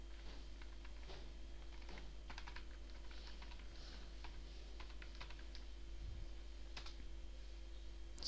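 Keys on a computer keyboard tapping in short irregular bursts while an address is typed into a web browser, quiet and close over a constant low electrical hum.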